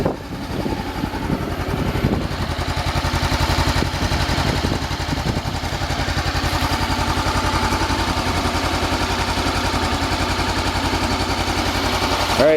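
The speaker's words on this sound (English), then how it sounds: "You can hear it. There you go. Idle's at about 1100." A 2014 Honda CBR500R motorcycle engine idles at about 1100 rpm, a steady, close, rapid low putter that continues evenly without revving.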